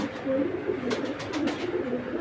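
Large Bagha pigeons cooing in soft, low, repeated calls close by, a few coos in quick succession.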